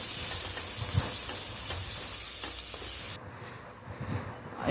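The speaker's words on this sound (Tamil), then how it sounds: "உப்பு சேர்த்துட்டு நம்ம நல்லா வதக்கிக்கோங்க" Chicken for a South Indian chicken curry sautéing in a pan with salt, a steady close sizzle with light scraping stirs throughout, the hiss dropping abruptly partway as the heat or stirring shifts.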